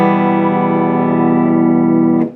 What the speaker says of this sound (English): This is my clean tone sound.